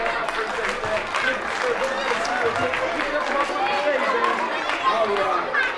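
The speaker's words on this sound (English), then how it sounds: "Give her a round of applause." Audience applause and cheering from a crowd at a children's show after a mock wedding ceremony, steady sustained clapping throughout, loud and close with excited chatter mixed in.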